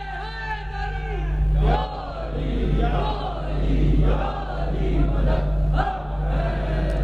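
Large gathering at an imambargah majlis chanting a religious slogan in unison: loud, rhythmic waves of many voices shouting together, rising and falling in repeated phrases over a constant low hum.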